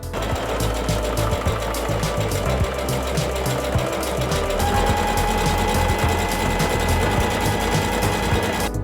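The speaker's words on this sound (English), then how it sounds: "So now I'm gonna sew this down and then I'm gonna sew a straight stitch across." A sewing machine runs a straight stitch across a thrifted top with a fast, continuous mechanical whir and chatter, steady and close for the whole stretch.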